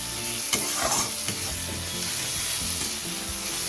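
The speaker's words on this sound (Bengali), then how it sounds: "কষানো প্রায় হয়ে গেছে, আমার তেল ছাড়তে শুরু করে দিয়েছে" Masala being stir-fried in oil for a Bengali bhola fish curry, a steady loud sizzle with repeated scraping stirs of a spatula through the thick paste, continuous throughout with no talking.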